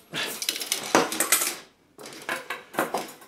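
Parts of a Daewoo halogen air fryer are shuffled around on a small tabletop, a quick run of clattering, knocking plastic and metal pieces, then a short pause and another burst of close rattling.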